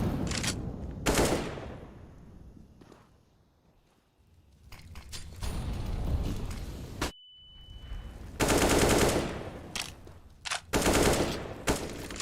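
SMG fire in a competitive shooter match: loud rapid automatic bursts at close range, coming in several rolling volleys with brief gaps and some footsteps, and no voices.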